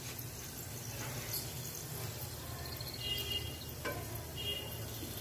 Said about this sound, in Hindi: अभी डालूंगी मैं थोड़ा सा जीरा, थोड़ा सा धनिया, और इसको थोड़ा सा ब्राउन होने तक भूनूंगी।